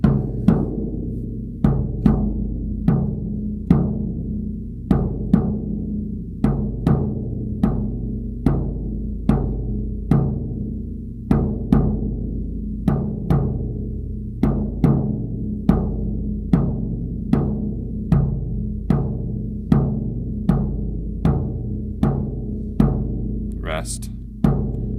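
Steady repeating drum strikes in a dotted quarter and eighth note rhythm from a song, loud, close and evenly spaced for the whole stretch, with no voice over it.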